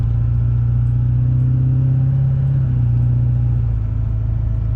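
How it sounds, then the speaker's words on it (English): A pickup truck engine with a 4-inch exhaust idles steadily at close range while warming up, a deep continuous rumble with slight shifts in pitch, no voices. "the truck's still warming up too"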